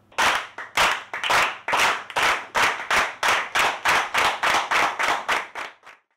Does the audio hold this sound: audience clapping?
yes